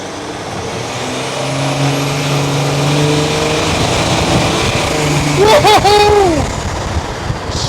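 A turbocharged M57 US Mail Van custom race van accelerates with a loud rising engine drone and steady road and wind roar heard from inside, with a brief whistling squeal near the end.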